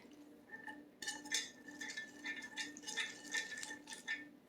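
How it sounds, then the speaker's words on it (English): Leftover spaghetti noodles sloshed around in water inside a pot, giving close, irregular wet clinks and splashy scrapes against the pot over a few seconds, with no talking. "put a little water in them, slosh them around, separate them good"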